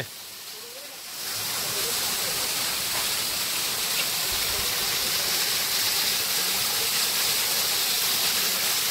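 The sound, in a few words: waterfall near a village home in Ratnagiri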